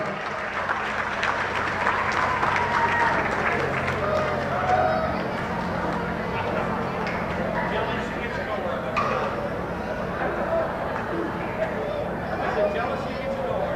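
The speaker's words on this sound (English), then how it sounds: "Yeah, give a nice round of applause." A crowd at a race track on the season's final points night gives a long round of applause that stays steady throughout, mixed with an announcer talking over it.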